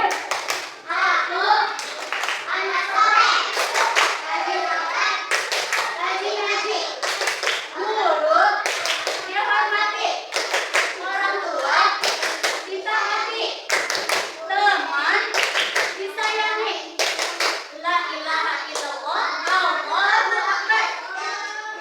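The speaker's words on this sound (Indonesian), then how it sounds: "Tepuk anak soleh" Schoolchildren in an Islamic religious class do the rhythmic "tepuk anak soleh" clapping chant, sharp claps in a patterned beat interleaved with their chanted words, loud and close throughout.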